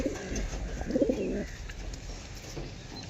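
Close, low pigeon cooing in a short burst of soft, throaty calls over a quiet background hum.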